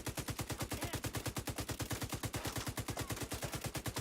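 Rapid sustained automatic fire from the Pestilence exotic LMG in The Division 2, a steady, evenly spaced stream of shots lasting about four seconds, fairly quiet in the mix with no voice over it.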